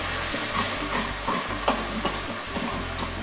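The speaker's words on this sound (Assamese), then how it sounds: "এতিয়া মছলাখিনি ভালকৈ ভাজি ল'ব" Ground spice paste frying in oil in a kadai for aloo dum, a steady close sizzle with scraping stirring strokes over a low continuous hum.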